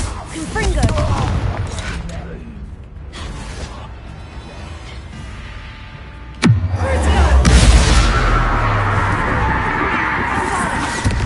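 Fire-spell blasts in Hogwarts Legacy, a crackling burst early on and a sharp loud explosion around the middle followed by a roaring, rumbling aftermath, with spoken voices in between.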